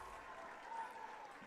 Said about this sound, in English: Give them a nice round of applause and just hoping and best wishes to Jasper.